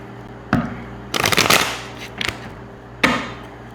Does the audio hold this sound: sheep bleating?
no